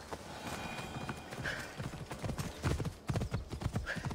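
Horse hooves clip-clop in a quick galloping rhythm in the video game Assassin's Creed Odyssey, with a short whinny and rustling gear, moderately close and no talking.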